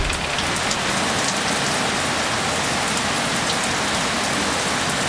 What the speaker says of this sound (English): It's such heavy rain.